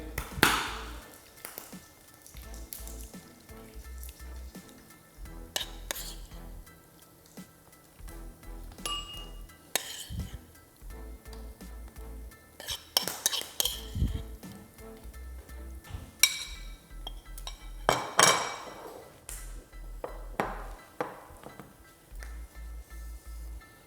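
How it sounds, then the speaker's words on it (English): Salmon salad dressed with toasted sesame oil being moved into another dish for plating, with scattered faint clinks, taps and scrapes of utensils against dishes spread irregularly over a quiet background. "I'm just gonna transfer this into another dish to plate"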